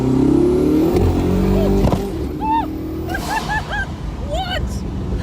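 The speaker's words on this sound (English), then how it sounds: "There was that massive pop, and then you hear the turbos." A fast car accelerates hard nearby, with a loud engine roar, a sharp pop just under two seconds in, then rising whistling turbo sounds chirping repeatedly after it.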